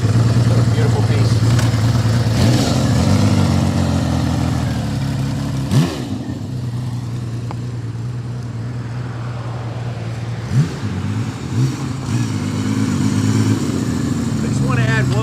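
A six-cylinder 1979 Benelli 750 Sei motorcycle engine runs at a steady idle, then revs up sharply a couple of times, loud and close, with a voice heard over it.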